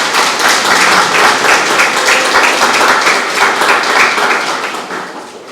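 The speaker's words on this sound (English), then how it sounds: "I think she deserves a round of applause" An audience at a girls' empowerment programme launch gives a loud, sustained round of applause that tapers off over several seconds.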